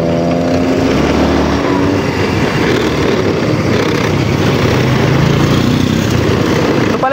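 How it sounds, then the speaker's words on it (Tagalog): A motorcycle engine running with no air filter drones steadily and loudly up close through a test drive, its low harmonic rumble shifting slightly in pitch as it goes. "Ito pala yung tunog ng makina niya mga boss."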